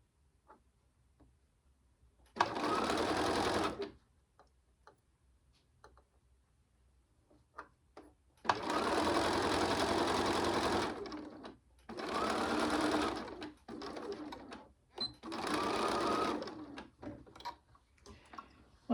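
Sewing machine stitching across the bottom of a drawstring bag, running in four steady bursts of varying length separated by quiet pauses with small clicks and handling noises between runs.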